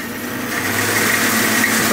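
A Delta bandsaw driven by a treadmill motor runs steadily, a loud continuous motor hum with a faint whine on top, holding even throughout without pauses.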